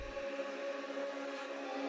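A processed vocal phrase from a UK drill production in FL Studio, widened with a stereo enhancer, reverb and Fresh Air brightening the highs and mids, sustained and steady with a brief low thump at the very start.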